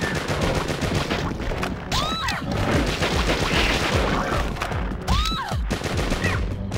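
Continuous bursts of gunfire and impacts while shooting enemies in the Sega Dreamcast game D2, a dense, loud fusillade with crashing hits throughout.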